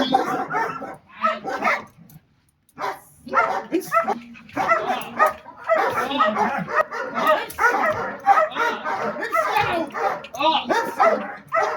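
A guard dog in training barks and yelps in short bursts at a stranger, close by, mixed in with people talking loudly throughout.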